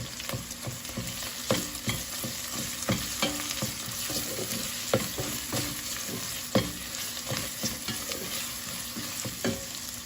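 Onions fry and sizzle in a pot while pepper paste is stirred in, a steady close crackle broken by repeated scraping stir strokes, with no talk, during preparation of green lentil soup with noodles.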